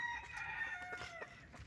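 A rooster crows once on a farm, a close, clear, drawn-out cock-a-doodle-doo with faint clucking and background noise around it.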